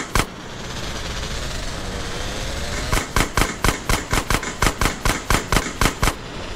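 Gunfire in GTA San Andreas Remastered: a single loud shot, a pause over background noise, then a rapid rhythmic burst of about a dozen evenly spaced, sharp, close reports.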